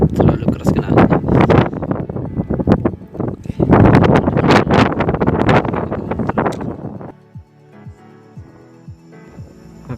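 Strong wind buffets the microphone on the slope of Mount Agung in Bali during a storm, loud roaring gusts for about seven seconds before dropping to a quieter hiss with faint scuffing.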